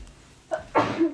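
A single short human sneeze, close and clear, with a small intake of breath just before the burst in an otherwise quiet room.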